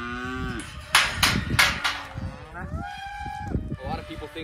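Cattle moo repeatedly inside a pen fitted with a squeeze chute, long drawn-out calls from several animals, loud and close, with metallic clanks and a voice between them.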